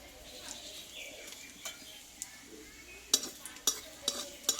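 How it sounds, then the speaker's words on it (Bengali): Nigella seeds sizzle in hot mustard oil, a quiet, close hiss broken by sharp metallic clinks and scrapes of a spoon against the pan, growing more frequent toward the end. "কালো জিরে ফোড়নটা একটু ভালোভাবে ভেজে নেব"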